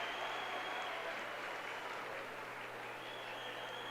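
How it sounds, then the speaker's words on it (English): Crowd at a state wrestling match applauds steadily, a dense wash of clapping filling the arena evenly throughout, with no voices standing out above it. "And they're applauding, I think, a lot for Downey's effort as well"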